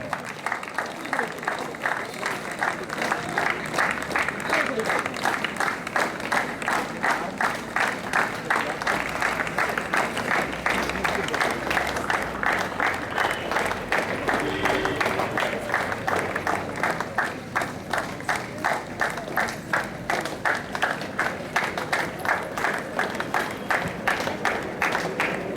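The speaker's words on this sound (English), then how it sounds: "Let us give a big clap and welcome them." Audience applause welcoming chief guests and officials at a college day celebration, a long sustained wash of many hands clapping with rhythmic pulses, roomy and fairly loud, with faint voices underneath.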